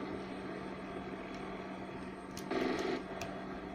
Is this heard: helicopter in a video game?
yes